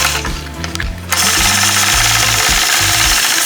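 A Sway 3 sewing machine stitches curved quilt lines along a ruler for a heart block, running in a loud, steady continuous whir after a brief quieter start, close and alone.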